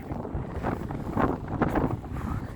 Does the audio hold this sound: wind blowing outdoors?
yes